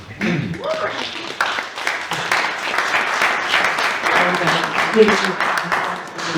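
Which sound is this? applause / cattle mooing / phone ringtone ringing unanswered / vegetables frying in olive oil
applause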